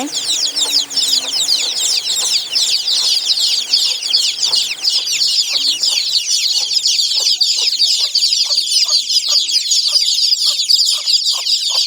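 Hens and their young chicks on a small farm in winter: a dense, continuous chorus of high chick peeps over scattered low clucks, close and fairly loud throughout.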